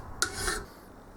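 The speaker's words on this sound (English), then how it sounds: "I'll file this down first" A hand file rasps across metal on a lathe cross slide in a single short stroke, close and fairly loud, followed by quiet.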